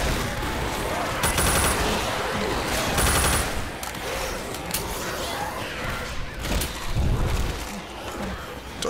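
A mounted machine gun in the co-op zombie shooter Left 4 Dead fires rapid, loud, sustained bursts with thuds and crashes mixed in, and voices talk intermittently through the din.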